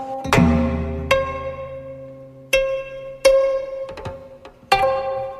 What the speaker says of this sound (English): here is a sound of a kayagum.